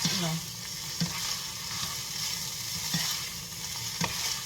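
Boiled rice goes into a hot pan and gets stirred through, with a continuous sizzle broken by regular scraping clacks of the spatula against the pan, close and moderately loud.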